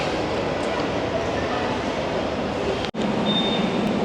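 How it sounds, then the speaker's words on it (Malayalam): A Singapore MRT metro train pulls into the platform at Jurong East station, a steady, loud rolling rumble and rush of noise that fills the whole stretch, cut by a brief dropout near the end. "നമ്മൾ നമ്മുടെ ട്രെയിൻ വരാൻ വേണ്ടി വെയിറ്റ് ചെയ്ത് നിൽക്കുകയാണ് നമ്മുടെ ട്രെയിൻ അതാ വരുന്നുണ്ട്"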